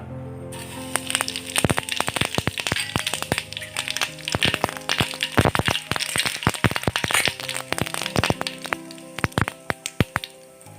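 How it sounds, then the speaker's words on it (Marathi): Cumin seeds dropped into about a spoonful of hot oil crackle and pop in dense, irregular bursts close by, sharp snaps tumbling over one another for several seconds with no voices. "इथे साधारण एक चमचा तेल टाकलेला आहे त्यामध्ये आपण टाकणार आहे जिरं"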